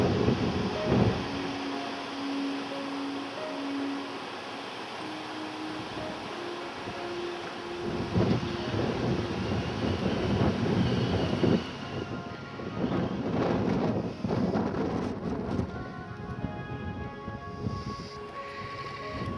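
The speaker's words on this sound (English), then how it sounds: "you can see that the wind is really piping it in this morning out of the northwest and be coming over the tops of the trees" Strong northwest wind rushes over treetops around a boat at anchor in Casilda Cove, Port Davey, Tasmania, a steady broad roar with gusty swells and rigging tones, continuous and close, with no talk.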